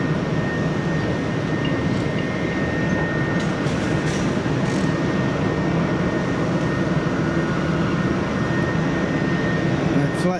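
An Icelandair Boeing 757 at Manchester Airport gives a loud, steady jet engine roar with broad rumbling noise that holds constant throughout, close and unbroken.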